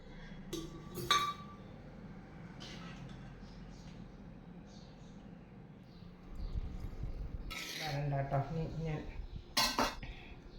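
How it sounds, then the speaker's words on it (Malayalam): Tender mango pickle is moved into a ceramic jar with scattered clinks and scrapes of a utensil against the vessel, brief sharp knocks, and a busier cluster of clatter toward the end in a quiet kitchen. "ഇനി നമുക്ക് ഈ കണ്ണിമാങ്ങ അച്ചാർ നമ്മൾ റെഡിയാക്കി വെച്ചിരിക്കുന്നത് നമുക്ക് ഈ ഭരണിയിലേക്ക് മാറ്റാം"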